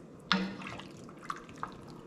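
Water poured into a pot of homemade French Canadian pea soup with peas and a ham bone: one short splash near the start, then two faint drips, close and quiet.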